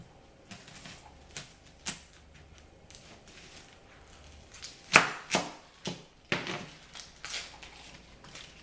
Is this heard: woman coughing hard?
no